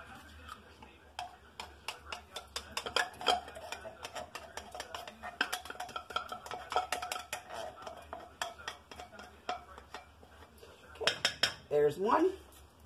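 A spoon clinks and scrapes against a pot and dishes while hamburger soup is made with tomato soup, a busy run of sharp metallic taps throughout, with a quick louder flurry near the end.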